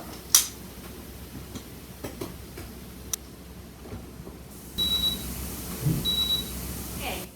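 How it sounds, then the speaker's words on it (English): A Belgian waffle maker's alarm sounds as two short, thin beeps a little over a second apart, fairly faint, after a few soft ticks and clicks in a quiet kitchen. "My alarm just went off on my waffle maker"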